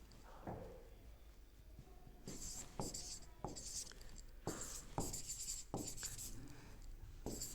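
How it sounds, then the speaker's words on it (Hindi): Pen writing on paper during an English grammar lesson, a series of short scratchy strokes at a steady rhythm, close and fairly quiet, with no talking. "डायरेक्ट आपको लिखना है"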